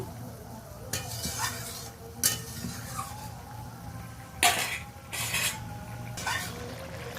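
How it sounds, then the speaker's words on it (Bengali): Fried small parshe fish are gently stirred into a simmering spicy curry, with a few distinct spoon-against-pan scrapes spaced over a faint, steady bubbling sizzle and no talk. "হালকা হাতে ভালো করে মাছটা মিশিয়ে নিচ্ছি।"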